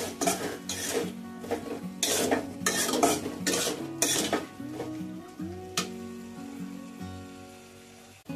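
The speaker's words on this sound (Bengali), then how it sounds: "ভালো করে নাড়াচাড়া করে নেবো আবার" A metal spoon scrapes and clatters in a pan while ivy gourd (kundri) curry is stirred, in irregular bursts of clinking with a soft sizzle underneath, close and fairly quiet.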